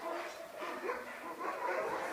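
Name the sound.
sled dog barking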